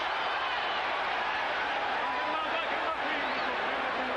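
Boxing arena crowd at the Tyson vs Holmes fight, a dense continuous roar of many voices filling the space, heard alone.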